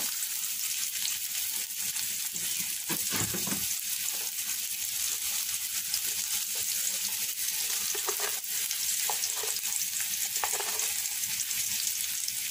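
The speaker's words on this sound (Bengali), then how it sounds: "আর পেঁয়াজ কুচি দিয়ে দিলাম এটাকে বাদামি করে ভেজে নেব" Chopped garlic and onion fry in hot oil for a mixed vegetable curry of green banana, potato, carrot and eggplant, giving a steady close sizzle throughout with occasional stirring clinks and scrapes, no talk.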